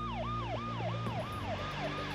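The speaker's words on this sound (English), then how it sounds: "I happened to hear a siren." A wailing fire engine siren sweeps up and down in quick repeated cycles, loud and steady, with a low engine rumble beneath it.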